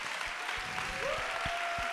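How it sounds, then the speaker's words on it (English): Audience members at a youth spoken word poetry event applaud the poets, a steady moderate wash of clapping with a few closer individual claps and a faint tonal hum beneath. "Give them a round of applause one more time."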